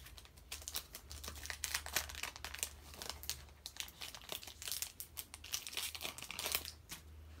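Foil wrappers of Pokémon card booster packs crinkle and tear in a busy, close run of crackling bursts that lasts throughout, quiet and with no talking.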